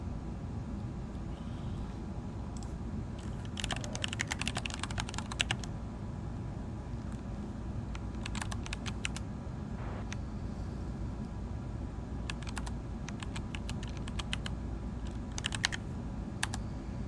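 Keystrokes on a computer keyboard as a terminal command is typed during a packet radio setup, coming in short irregular bursts of clicks over a steady low hum, with no talking.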